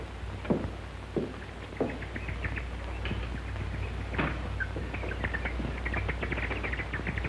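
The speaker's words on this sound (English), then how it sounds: "Those birds, what are they so excited about?" Birds in the countryside chirp and twitter in quick, scattered bursts, fairly faint over a steady low hum, with no talking.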